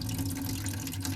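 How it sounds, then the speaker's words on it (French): Water sprays steadily from a battery-powered portable shower inside a camper van, a continuous close hiss of running water with no pauses and no voices. "il y a de l'eau qui vient par là"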